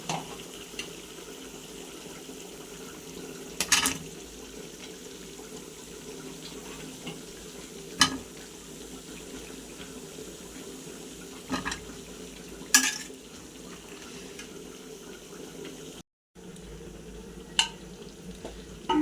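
Potatoes and eggplant frying in a pan, a faint steady sizzle with occasional stirring clatter, alone with no talk.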